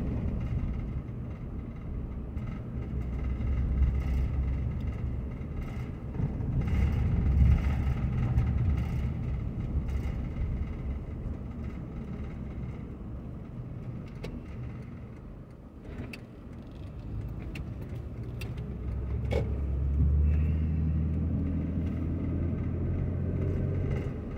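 The interior of a car driving through a residential street of houses in Anderson, Indiana, with a steady low road rumble that swells and dips slightly as it rolls along.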